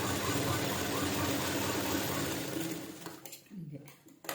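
A sewing machine runs steadily while stitching a blouse lining, a fast close mechanical whir for about three seconds that then stops, leaving quiet handling sounds.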